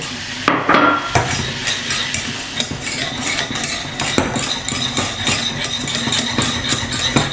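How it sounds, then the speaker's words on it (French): Flour is tipped all at once into melted butter in a pan to start a roux for béchamel, followed by brisk metallic scraping and clinking of a utensil against the pan, close and continuous. "Notre beurre est fondu, on rajoute d'un coup la farine."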